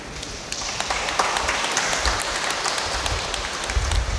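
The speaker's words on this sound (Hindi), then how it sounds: "हम लोग ताली मारेंगे।" Wedding guests applaud the newly married couple, a steady crowd of clapping hands held for several seconds at a fairly close, even level.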